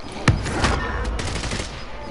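Rapid gunfire from the shooter game Warzone crackles in quick bursts, with one sharp shot standing out before a steady stream of fire, while faint voices sit underneath.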